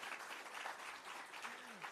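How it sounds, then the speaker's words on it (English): Applause from the audience at the launch of a public sector debate competition, a dense, steady wash of clapping filling the short moment at moderate, fairly distant level. "give yourselves all a round of applause for coming back to this competition"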